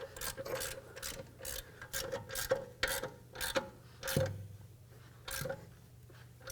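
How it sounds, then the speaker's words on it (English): A ratchet fitted with a 22mm socket tightens the nut on the rear upper control arm of a 2003-2007 Nissan Murano, giving quick, close clicking and rasping bursts in short uneven strokes with brief pauses. "With a 22mm, I'm going to tighten up this nut"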